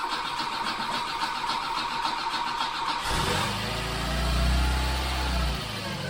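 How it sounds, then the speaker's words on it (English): An Audi 80 engine, unused for 19 years and run without its water pump and generator, cranks and catches, roaring to life and then settling into a loud, steady idle with a slight rev. "We're just going to quickly try and start it without the water pump and the generator."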